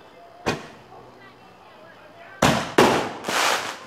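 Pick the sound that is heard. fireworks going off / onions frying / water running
fireworks going off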